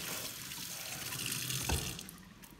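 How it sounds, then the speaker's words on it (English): Hands rinsed under a running kitchen tap, a steady faint gush of water splashing into the sink with a brief stronger splash near the end. "Rinse off your hands."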